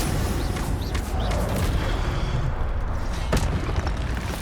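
Spell effects from the Hogwarts Legacy video game: a dense, continuous rumbling wash of magical whooshes and booms with a sharp crackling burst near the end, loud throughout.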